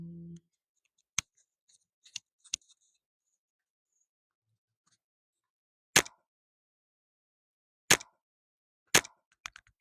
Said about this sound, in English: That's the worst sound clicking button.